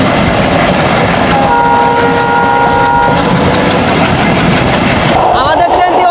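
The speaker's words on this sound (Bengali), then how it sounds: "আর এই মুহূর্তে ছেড়ে যাচ্ছি গ্যান্ডারিয়া রেলওয়ে" A commuter train pulls out of Gandaria railway station in Dhaka, its loud steady rumble and rail clatter filling the scene, with brief horn-like tones sounding midway and a person talking over the noise.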